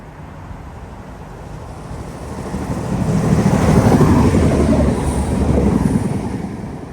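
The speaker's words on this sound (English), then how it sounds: "there's an express train coming whenever it goes green like that" An express train on a Northern Ireland railway rumbles past with a deep, rolling roar. It swells from a low background hum to a loud peak near the middle, then stays strong as the wheels clatter.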